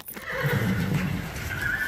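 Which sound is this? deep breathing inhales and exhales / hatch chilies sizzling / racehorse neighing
racehorse neighing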